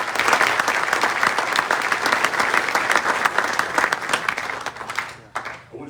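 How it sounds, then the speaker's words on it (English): Sustained audience applause fills a hall of fame ceremony, dense and loud for several seconds before thinning and fading at the end. "So let's give a round of applause to"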